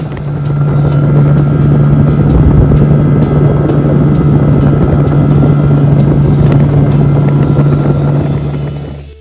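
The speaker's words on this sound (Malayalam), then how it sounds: "ഞങ്ങൾ 3 പേരും കയറിയ സ്പീഡ് ബോട്ട് നേരെ കായലിൻ്റെ നടുക്കോട്ട്" A speedboat cuts across the Kuttanad backwaters in Alappuzha. Its engine drones loudly and steadily from start to finish, with rushing water and wind noise close by.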